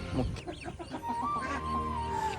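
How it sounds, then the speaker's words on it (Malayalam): Country hens and chicks, including Kuttanad chicks and speckled hens, in a farm setting, giving a close run of rhythmic clucks followed by a long high peeping call. "തനി നാടൻ കോഴി കുഞ്ഞുങ്ങളും കുട്ടനാടൻ കുഞ്ഞുങ്ങളും നല്ല പുള്ളിക്കോഴികളും അമ്പാടിക്കുട്ടൻ്റെ കയ്യിൽ കളക്ഷനായിട്ടുണ്ട്"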